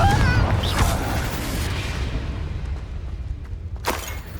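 A Confringo blasting spell from Hogwarts Legacy goes off with a heavy boom at the start, its rumble rolling on and fading, and a second sharp burst near the end.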